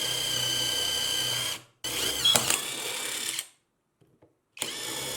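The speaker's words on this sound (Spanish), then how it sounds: "Ahora haré 2 perforaciones con una broca de 8 milímetros." A Mensela EW-L1 18V cordless drill bores 8 mm holes into teak hardwood, with two close, loud bursts of steady high whine separated by a brief pause, then silence before a third start.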